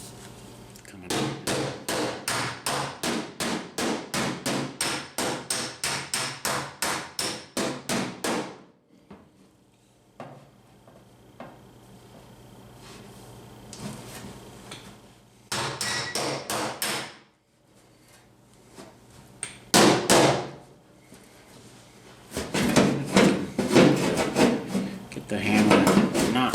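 Rapid, rhythmic hammer taps ring on a dent in a steel body panel of a 1971 Chevy Blazer in long bursts, separated by pauses where a person speaks quietly.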